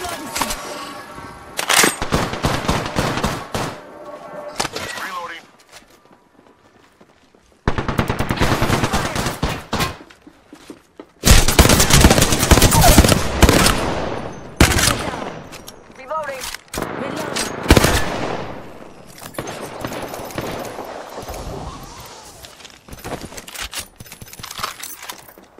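Apex Legends gunfire rings out in repeated loud bursts of rapid automatic shots separated by short pauses, with clinks and gear clatter between volleys.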